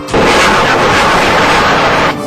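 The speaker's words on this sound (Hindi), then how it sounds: "इधर तोप गरजे, उधर आतंकी कांपे।" An army artillery cannon fires during an Indian military exercise, a single loud, close boom that holds as a roaring blast for about two seconds before cutting off.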